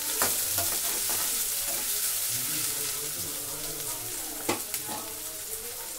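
Chopped onions frying in hot oil in a pan while aloo palak is cooked: a steady loud sizzle and hiss with stirring scrapes and a few sharp clinks near the end.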